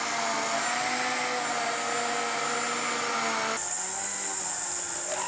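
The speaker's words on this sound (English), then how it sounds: "I'm going to bring this over to my mixing machine to knead" A stand mixer kneads Serbian rose pull-apart bread dough on low, giving a steady, loud motor whir that holds evenly throughout and shifts slightly in tone near the end, with no talking.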